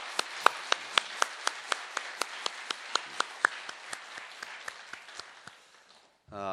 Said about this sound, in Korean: 격려하는 마음으로 우리 찬양대 위해서 격려의 박수 한번.